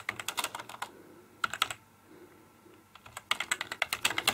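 Keys clacking on a USB keyboard plugged into a Microsoft Surface RT tablet, close and crisp, in quick bursts of typing separated by a short pause, with no voices.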